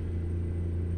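A propane tanker truck's engine rumbles steadily and loudly up close, a deep constant drone with no talk over it while the driver shifts down.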